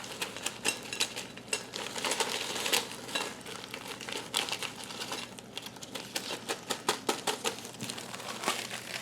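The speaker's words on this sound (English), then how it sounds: "So we're just going to dump those into a bowl." Hot Cheetos tumble out of a bag into a bowl, a close, busy crinkle of the bag with dry, rapid pattering of the snacks.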